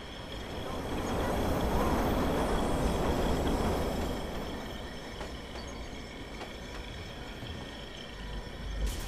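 Train rumbling past on tracks in the video game Watch Dogs, a loud rolling roar that swells in the first few seconds and then eases off into a steadier clatter with faint squeals.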